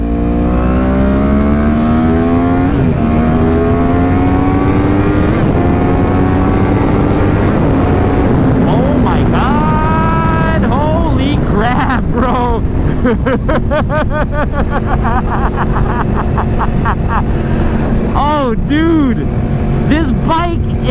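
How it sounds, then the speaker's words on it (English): An older Yamaha R1 sport motorcycle engine winds up through the revs in second gear with rising pitch, then howls at high RPM with rapid pops and warbling, loud and close, with occasional voices. "the audio of this bike, just listen to it"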